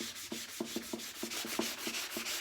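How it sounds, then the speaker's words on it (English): Sandpaper rubbed by hand over stenciled, painted salvage-yard wood in quick back-and-forth strokes, giving a steady run of close, soft scratchy swishes without any talking. "I'm just gonna take a little bit of sandpaper so it looks like it's part of the wood"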